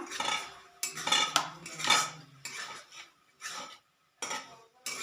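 Jackfruit koftas dropped into simmering gravy and stirred, heard as a run of loud metal clanks and scrapes of a spoon against a pot, in bursts with short quiet gaps.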